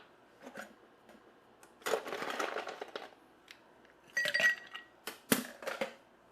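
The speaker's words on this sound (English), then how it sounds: "Give it a little swirl." A blue cocktail is swirled in a glass, with bursts of liquid sloshing and clinking against the glass in several separate swirls, close and fairly quiet.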